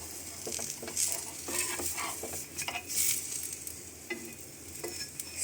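Onion-topped ullikaram dosa sizzling in oil on a hot pan, a steady crackling hiss broken by scraping and tapping from a spatula or utensil, close and moderately loud with no talking.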